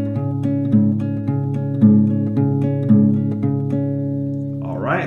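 Slow acoustic guitar playing a melody, clear plucked single notes repeating a four-round pattern over sustained ringing tones, close and alone, with a brief scrape of handling at the end.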